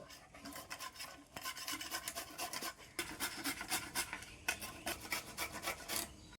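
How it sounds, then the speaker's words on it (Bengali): Steady rhythmic rasping as raw mango is scraped back and forth over a metal grater, close and continuous with brief pauses. "আমগুলো গ্রেটারের সাহায্যে গ্রেট করে নেব"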